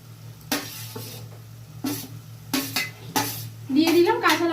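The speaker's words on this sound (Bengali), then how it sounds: "এবার এর মধ্যে আমি কাঁচা লঙ্কা বাটাটা মিশিয়ে দেবো।" A utensil scraping and clanking against a pan as green chili paste is stirred into malai prawn curry, in several separate bursts of stirring with a faint sizzle between.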